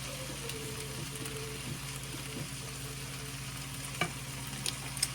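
Shrimp and veggie fried rice with soy sauce is stir-fried in a pan, making a soft continuous sizzle with light stirring scrapes and a few faint clinks, all fairly quiet and without speech.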